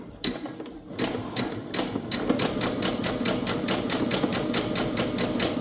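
Brother SE625 sewing machine stitching a zigzag seam, its needle running in a steady rapid mechanical rhythm after a short pause at the start, close and clear with no talking.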